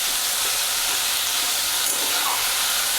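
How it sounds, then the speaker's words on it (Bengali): Onions fry in a moderate amount of oil for a Bengali mutton curry, a steady loud hiss and sizzle close up without pause. "পেঁয়াজটা লাল হয়ে ভাজা পর্যন্ত অপেক্ষা করব আমরা, যতক্ষণ না লাল হচ্ছে।"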